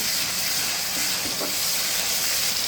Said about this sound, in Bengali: এখন দিয়ে দেবো আদা বাটা